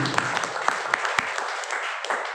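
Seminar audience applauding together, a dense steady patter of clapping at moderate level with a few sharper individual claps standing out, no talk over it.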